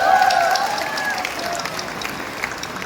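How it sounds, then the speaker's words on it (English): Steady crowd applause fills a community stage gathering, a continuous rush of many hands clapping, fairly loud, with a voice and amplified tones running faintly beneath it. "Let's give a big applause"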